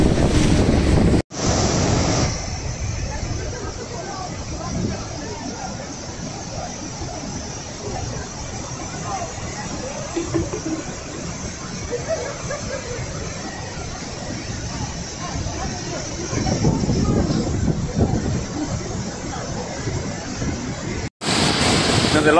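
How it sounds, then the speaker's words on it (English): Niagara Falls roars as a dense, continuous wash of rushing water and spray, loud and close with wind buffeting the microphone, steady throughout with a brief cut near the start and end. "but this is Niagara Falls"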